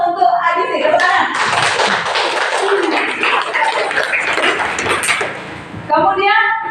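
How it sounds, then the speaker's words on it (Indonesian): Classroom applause, with several people clapping quickly and unevenly for a few seconds, set between bursts of a teacher speaking. "Tepuk tangan."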